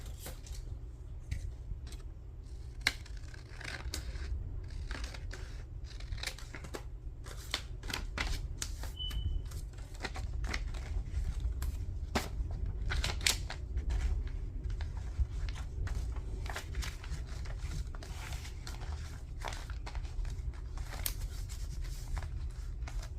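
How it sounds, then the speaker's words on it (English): Scissors snip through paper while a signature flip-flop journal is being put together; quick, crisp cuts and light paper rustles sound close and steady, with no talking. "I'm going to cut that."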